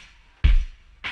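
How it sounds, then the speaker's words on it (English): A punchy lo-fi drum loop hit at 98 BPM with a deep kick and snare, then a second hit starting near the end; a short, loose beat fragment, fairly loud and dry. "pull up this drum loop from one of my drum loop kits available on my site."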